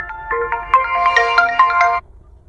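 A mobile phone plays a melodic ringtone for an outgoing call, a bright, busy tune of rapid notes lasting about two seconds, close and clear, then cutting off.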